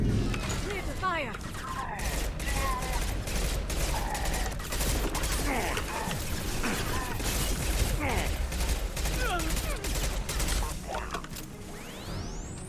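Gunfire in the Mass Effect 2 video game, rapid bursts of shots and impacts running continuously over a dense battle mix, with voices talking over the fighting.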